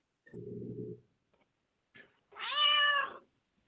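A cat meows twice during a public board meeting: first a short low-pitched call, then after a pause a louder, longer, strongly voiced meow with a clear rising-and-falling tone, close to the microphone with no talk over it.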